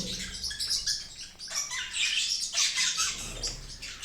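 Dense, continuous chirping and chattering from many budgerigars and small parrots at once in an aviary, close and busy, with overlapping squawks and no talking.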